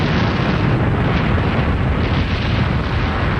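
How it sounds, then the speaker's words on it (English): A mountain volcano eruption sound effect in a televised children's adventure challenge: a loud, continuous, dense rumbling roar with no break from start to finish. "It is as I feared. The mountain has awoken."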